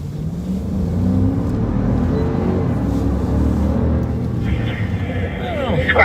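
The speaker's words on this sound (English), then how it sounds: "The engine doesn't sound as good as normal." A patrol car's engine accelerating, a steady low drone that rises and holds over about six seconds, heard from inside the vehicle with road noise, a brief high radio or siren-like tone near the end.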